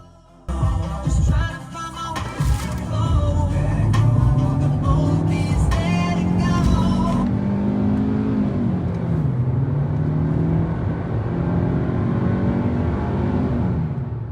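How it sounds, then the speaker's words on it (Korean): A Hyundai Avante CN7 car with a 1598cc four-cylinder engine revs up hard in a 0-100 km/h test and climbs through the gears, pitch rising and dropping with each shift, loud and close, with no talking. "다음은 제로백 테스트를 진행해 보도록 하겠습니다."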